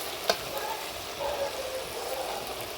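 Onions and ingredients sauté in a pan for a village-style tamarind curry, a soft steady sizzle with faint stirring and one brief clink near the start, heard close but quiet.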